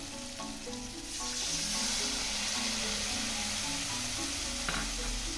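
Ground sesame and poppy seed paste sizzles and hisses steadily in a hot pan for a Bengali bhindi masala, loud and continuous, rising sharply once the paste hits the oil.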